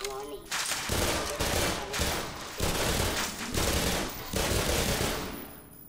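Gunfire in the video game Black Mesa: loud, close bursts of rapid automatic shots in several clusters with short gaps between them, the bursts dominating the mix.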